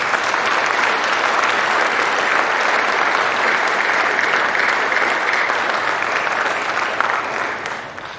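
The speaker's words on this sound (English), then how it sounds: "Let's give these mentors a round of applause" An audience at an honor society induction ceremony gives mentors a round of applause, a dense, loud, even burst of clapping that holds steady for several seconds, then fades off at the end.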